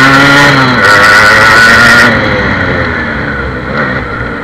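A rare 1988 Japanese-model Yamaha RX 100 motorcycle with a Japanese carburetor revs loudly and close while being ridden, its buzzing engine tone climbing and wavering before easing off into a lower, steadier drone.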